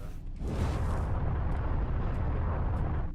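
Turret fire strafing a ship in the space game Everspace: a loud, sustained roaring rumble that swells in, with a few faint pops scattered on top.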